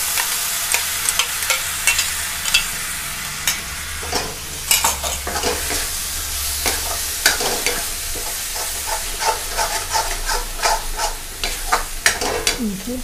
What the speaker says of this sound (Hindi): ऐसे चलिए मैं इसके साथ भून देती हूँ थोड़ा